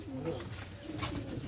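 Male pigeons in a pigeon loft coo in low, throaty rolls that overlap continuously, close and moderately loud, with no speech.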